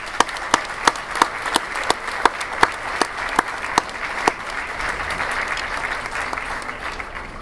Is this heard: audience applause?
yes